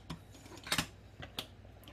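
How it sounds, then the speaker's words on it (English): Scissors cutting a paper coffee filter for a Coletti percolator, a few short crisp snips close by, quiet and irregular, with no talk. "Take the scissors,"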